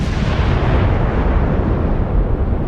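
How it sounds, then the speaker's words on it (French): A car bomb test in New Mexico erupts in one loud, sustained explosion, a heavy roaring blast that rumbles on without any voices. "Cette explosion dans le Nouveau-Mexique fait partie d'un test destiné à étudier ce qui se passe lorsqu'une voiture piégée explose."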